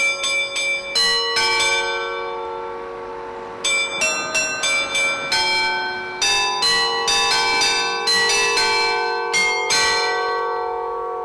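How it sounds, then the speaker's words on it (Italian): A carillon in Treviso rings out the Inno del Piave, a clear melody of struck bells with overlapping ringing tones, played in phrases with short gaps, loud and close, with no voices. "il carillon che suona l'inno del Piave 3 volte al giorno"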